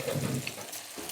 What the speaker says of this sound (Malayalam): നമുക്ക് മീൻ കുറേശ്ശെ വറുത്ത് കൊടുക്കാം.